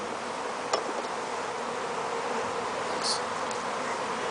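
Honey bees fan at the front of a colony hive entrance, a continuous soft buzzing drone close by, with a couple of brief knocks over it.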